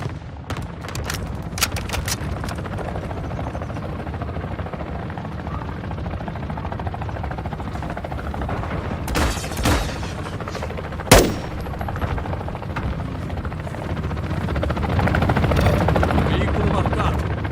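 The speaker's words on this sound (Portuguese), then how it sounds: "Helicóptero de carga entrou no espaço aéreo." A cargo helicopter in Call of Duty rumbles steadily under bursts of gunfire and a sharp explosion, with the rotor drone growing louder toward the end while voices speak over the action.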